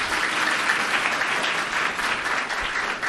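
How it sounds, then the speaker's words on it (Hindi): An audience at a Brahma Kumaris New Year 2023 celebration in Bhusawal claps in a dense, loud, continuous burst of many hands, steady throughout with no talk over it. "बाबा कहते हैं ताली बजाओ"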